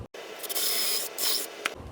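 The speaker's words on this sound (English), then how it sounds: "And let's drill down through." A power drill whirs through wood in two short, loud grinding bursts separated by a brief pause, with no talking.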